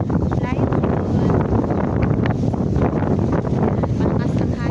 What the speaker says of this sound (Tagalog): Malakas ang hangin pa rin.